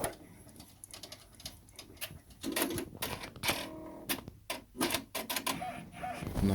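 A Brother BabyLock Venture embroidery machine stitching, with fast, uneven tapping and clattering of the needle that rises and falls in intensity, close and fairly quiet.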